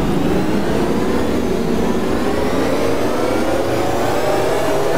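A bus engine revving in neutral in the OMSI bus simulator game, a loud, continuous drone whose pitch climbs slowly over the whole stretch, steady and close with no pauses or talking.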